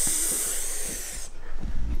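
A voice imitates a spraying stream of pee with a loud, sustained hissing "psst" lasting over a second, then cutting off abruptly into quieter low rumbling.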